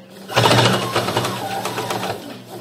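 A sewing machine starts up and stitches a pocket onto a pair of trousers, a loud close mechanical whir that runs steadily after a quick start-up, alone with no talk.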